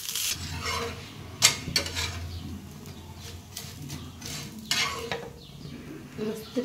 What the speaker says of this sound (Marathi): थोडंसं तेल लावून घ्यायचं.